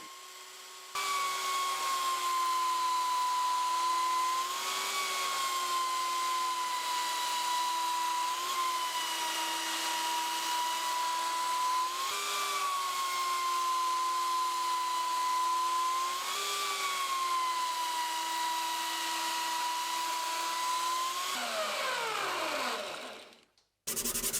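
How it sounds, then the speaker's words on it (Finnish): Steady whining motor hum of a belt sander sanding wood, running continuously with slight pitch dips as it works, then winding down abruptly at the end. "käyttää tässäkin nauhahiomakonetta"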